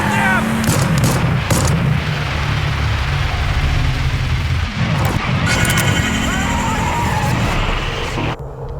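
Loud, dense gunfire erupts in a combat scene from the video game Hell is Us, with heavy booming shots and rapid bursts running continuously over several seconds, with voices briefly mixed in.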